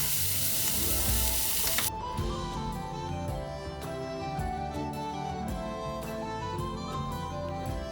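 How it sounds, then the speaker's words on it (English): Onion and bacon sizzle and crackle steadily in a hot pan, close and continuous, with a brief burst of louder hiss at the start. "pre-frying them gives the onion a sweeter taste and the bacon some extra crunch."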